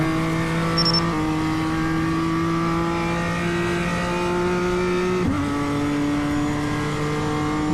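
A BMW M2 race car in iRacing at Oschersleben drones with a steady, loud engine note that holds at a constant pitch, with a brief dip at each of two gear changes.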